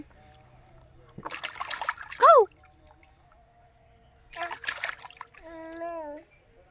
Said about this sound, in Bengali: তো এখন এখন স্নান করাচ্ছি